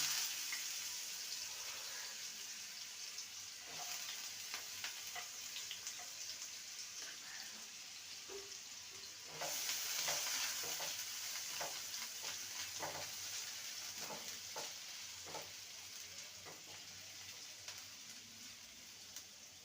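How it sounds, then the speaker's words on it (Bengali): Small-cut carrots frying in a pan for poha, a faint, steady patter-like sizzle with scattered stirring taps, growing briefly louder partway through. "প্রথমে ছোট ছোট করে গাজর কেটে নিয়েছি গাজরটাকে ভেজে নেবে"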